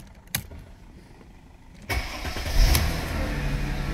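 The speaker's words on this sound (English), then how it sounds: "Car started." A Mercedes-Benz CLK320 W209 coupe starts up nearby: a quiet click, then after about two seconds the engine cranks, catches with a surge and settles into a steady idle.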